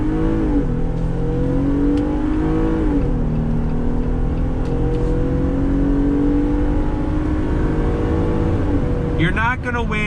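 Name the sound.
2019 Jeep Wrangler Rubicon hard top accelerating from a stop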